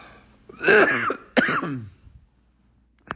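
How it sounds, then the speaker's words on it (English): Two short throaty coughs close by, the second following a beat after the first, then quiet. "Ooh, that little cough."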